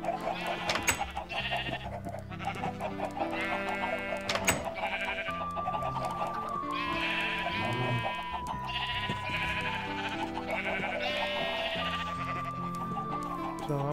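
Sheep bleat repeatedly in the Minecraft video game, with several stacked, wavering calls close up and loud, mixed with other farm-animal noises and clucking, and no talking.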